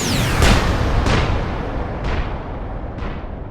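Bomb drop explosions from an RBK-500 cluster bomb in a flight simulator game: several deep, rumbling booms at intervals, the first loudest and later ones a little softer, over a steady engine-like roar.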